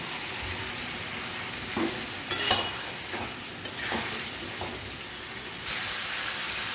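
Green peas tumble into a hot frying pan for a cauliflower and potato curry, a steady hiss rising as they land, followed by several scraping stirs and clinks against the pan.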